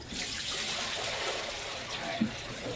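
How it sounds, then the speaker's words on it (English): White Bright laundry soaking water is poured out of a container in a steady, continuous splashing trickle that stays close and fairly loud for nearly three seconds, with a small knock near the end. "Now, the White Bright stuff we can pour out."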